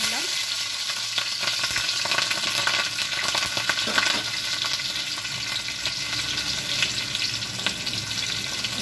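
Small green chillies fry in hot oil with a loud, continuous crackling sizzle and dense spattering pops that keep going the whole time.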